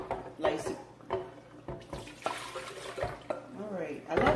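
Ghana garden egg light soup poured into a pot, a creamy liquid sloshing and splashing in uneven surges, fairly close and moderately loud, with a few brief gaps between pours.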